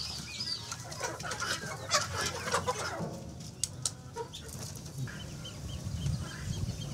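Poultry on a farm clucking and calling repeatedly, several birds close by with irregular overlapping clucks and squawks over a low ambient background.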